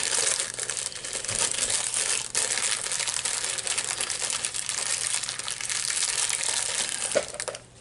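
A crinkly snack bag from a United Kingdom snack subscription box, its top already cut off, is handled and pulled open, making a loud, continuous close-up crackle of rustling plastic for several seconds.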